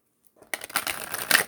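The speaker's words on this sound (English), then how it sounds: "One more shuffle." A deck of tarot cards being shuffled up close, a burst of rapid papery riffling and crinkling that starts abruptly and runs for about a second, fairly loud, with no talking.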